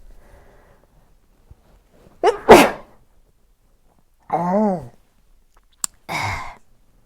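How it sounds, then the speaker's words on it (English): A single sharp sneeze with a sudden burst, followed by a short voiced exclamation and another quick breathy outburst, close and loud against quiet. "I'm going to sneeze."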